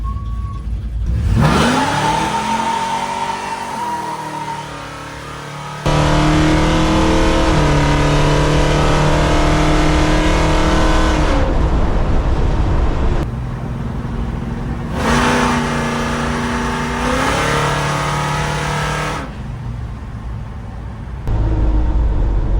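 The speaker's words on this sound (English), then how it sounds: "if you pass your friend's house, you have to do a burnout" A Plymouth Cuda with a new converter and valve body does a loud burnout, its engine revving hard in long, rising surges with brief dips between them, close by and with no voices.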